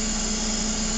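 A medical air compressor fitted with a muffler runs steadily, a constant muted hum with a strong low tone, no voices.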